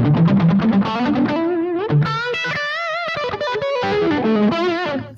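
A heavily distorted electric guitar plays a run of notes and bends, loud and close, with a gritty, saturated tone and no voices.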